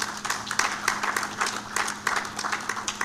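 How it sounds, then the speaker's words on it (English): An audience at a youth energy conference claps in a dense, steady patter of many hands for about three seconds, with a faint low hum underneath. "I believe Total deserves a hand of clap."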